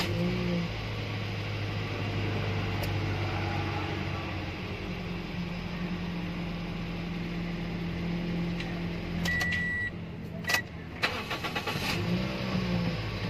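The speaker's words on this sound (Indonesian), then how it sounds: "udah siap untuk hidup. Baru kita starter." A taxi car's engine hums steadily at idle throughout, with a few short clicking bursts near the end and no talk.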